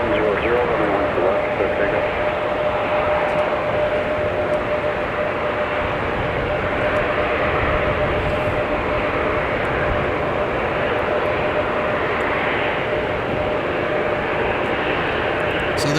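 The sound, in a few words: arriving airliner, Southwest Boeing 737 MAX 8, in winter storm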